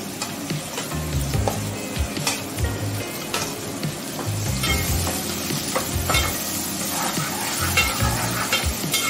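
Finely chopped onion frying in a pan with garlic already browned, for a cashew and prawn curry, a steady loud sizzle with scraping stirs and occasional utensil taps, no talking.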